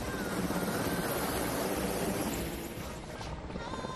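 Indian Air Force helicopters roar steadily overhead during a flower-shower flypast near AIIMS Patna, with loud rotor chop, dense and close, easing slightly toward the end.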